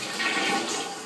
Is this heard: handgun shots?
no